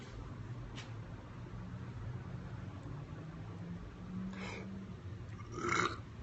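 A single short burp from a person sitting in a car, faint against a steady low background hum, coming near the end of a quiet stretch.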